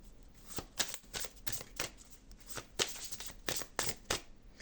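A deck of cards is shuffled close by in a run of quick riffling bursts, each a crisp papery flutter, repeating steadily with short gaps between them.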